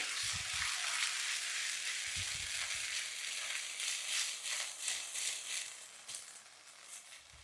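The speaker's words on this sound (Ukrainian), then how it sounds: "Сковорідка розігрілася, додаю сюди курку." Chicken sizzling loudly in a hot 28 cm pan, a steady crackling fry with a few soft scrapes of stirring, no voices.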